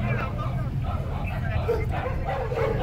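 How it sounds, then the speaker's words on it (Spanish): Dogs riding in a car and street dogs chasing it bark and yip excitedly on a Colombian street, a constant muddled din of several dogs mixed with people talking and background road noise. "Tengo un carro con 3 perros y 16 perros persiguiéndolos atrás."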